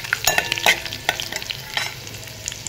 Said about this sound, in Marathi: त्याचा कलर बदलेपर्यंत आपण परतून घेऊया